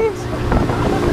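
Small boat at sea in wind, with a low engine rumble and rushing water and heavy wind buffeting the microphone, loud and close throughout.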